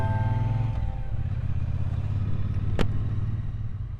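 A Triumph Bonneville T120 motorcycle being ridden, its engine a steady, close, low rumble with a brief sharp click midway, wind noise faint underneath.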